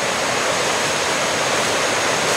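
Small waterfalls and cascades of running water on rural land near Dominical, Costa Rica, rush in a steady, loud, broadband wash with no pauses.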